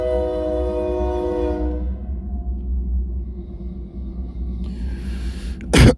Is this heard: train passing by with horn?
yes